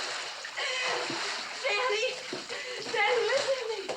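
Water splashes and churns continuously at close range as it rises around people trapped in an enclosed space, with voices mixed into the sloshing.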